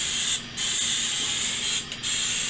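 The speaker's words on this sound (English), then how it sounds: "we paint our crust up with some spray." Cooking spray is sprayed onto a quiche crust in a cast iron pan as two short bursts of loud hissing, close by.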